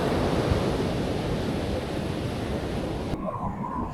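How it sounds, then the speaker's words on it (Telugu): Ocean surf at Agonda Beach in South Goa rolls in as a continuous broad roar mixed with wind buffeting the microphone, loud and steady before dropping off abruptly near the end. "ఇది అగోండా బీచ్."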